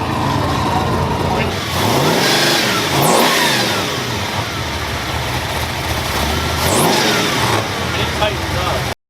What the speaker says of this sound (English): We officially have the truck up and running.